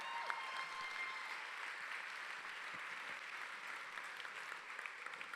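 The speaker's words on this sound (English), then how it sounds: "Let's give all 25 people a big round of applause." Steady applause from a crowd heard at a distance, a continuous even wash of clapping with no talking.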